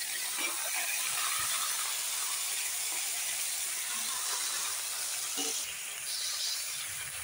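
Vegetables fry in a hot pan after being poured in, giving a dense, steady hiss close by that stays even throughout, with faint clatter and possible low speech underneath.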